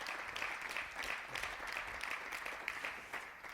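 Audience applauding players at a televised 2018 mixed team bowling challenge, steady crowd clapping filling the hall throughout with no voices over it.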